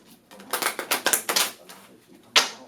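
Cards for a pick-a-card reading are shuffled in a quick burst of crisp riffling flutters, then a short pause and one last sharp riffle, close up.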